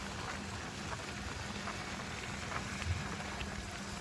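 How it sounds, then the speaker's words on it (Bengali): Heavy rain pours down during a rainy hill-country bike trip, a steady dense hiss of falling water that stays constant and close throughout, with no voices. "পুরো বৃষ্টি হচ্ছে।"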